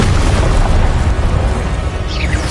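The Incendio fire spell explodes in Hogwarts Legacy with a loud, continuous roaring blast that fills the whole moment, dense and close, with no voices.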